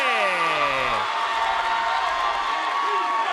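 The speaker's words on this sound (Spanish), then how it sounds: "¡Qué ovación de pie!" Wrestling arena crowd rises in a standing ovation after Joe Hendry smashes a guitar over Trick Williams, a loud, sustained roar of cheering and whoops, with a descending electronic sound effect fading out early on.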